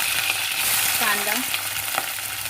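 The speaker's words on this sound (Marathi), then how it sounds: "आता आपल्याला तेलामध्ये मस्त फोडणी देऊन घेऊया" Curry leaves, green chillies and onion frying in hot oil in a kadhai for a spinach and liver dish: a close, continuous sizzle with stirring scrapes.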